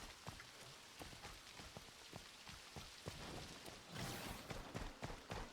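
Rain patters in a video game, a continuous wash of drops with brief louder spatters, fairly faint and swelling toward the end.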